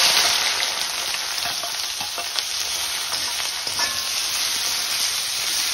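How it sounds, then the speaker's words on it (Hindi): Chopped onions fry in hot ghee in a kadai, a steady, close, broadband sizzle with occasional faint stirring clicks, continuous and without speech. "अब प्याज को हम डार्क ब्राउन होने तक भून लेते हैं"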